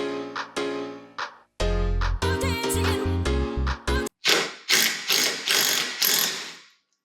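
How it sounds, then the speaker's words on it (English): A ratchet wrench with a 15 mm socket loosens the bolt on a snowmobile's secondary clutch, giving bursts of loud, close clicking pawl ratchets in several quick runs, alone without talk. "there's a 15 mil that we use to take the bolt out of the secondary"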